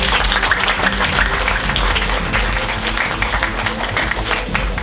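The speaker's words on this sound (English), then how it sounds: "they deserve a big round of applause" Sustained audience applause fills the hall after a school inter-house drama performance, a dense, steady wash of many hands clapping throughout, loud and close with no talk over it.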